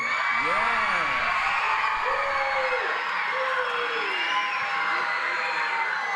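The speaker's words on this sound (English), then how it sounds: "Let me hear a big cheer if the Edison is here in the room." A roomful of students at an arts academy cheering and whooping together, a sustained loud crowd roar with a few voices rising in excited shouts above it.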